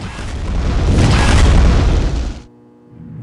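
A rocket launcher explosion from Quake 2 with the Whack mod: one loud, broad boom that swells and rumbles for about two seconds, then cuts away sharply into a quiet low tail.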